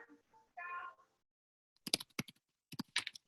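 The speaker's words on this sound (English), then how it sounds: "I'm typing away here." Someone types on a computer keyboard in two quick bursts of sharp, close key clicks after a brief tonal sound and a pause, with no talk over it.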